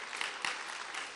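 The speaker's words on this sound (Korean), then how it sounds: "10명 박수 치고" A short burst of congregational applause at a Sunday-evening evangelism testimony service in a Daejeon church, a full, even wash of clapping with a couple of sharper claps standing out.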